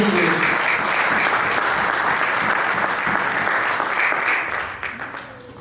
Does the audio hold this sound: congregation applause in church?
yes